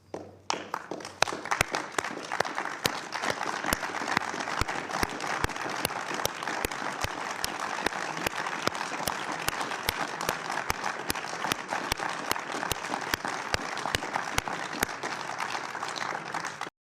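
Sustained applause from an audience at a press event with a Russian ambassador present, dense and steady clapping with a few sharper claps standing out, continuing evenly throughout.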